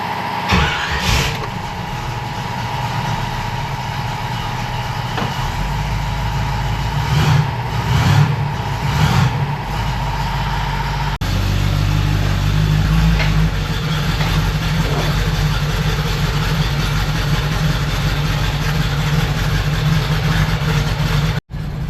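A Jeep with a cable transfer case shifter drives off in high range, its engine running steadily and loud throughout, with a broadband rumble and a brief change in tone partway through.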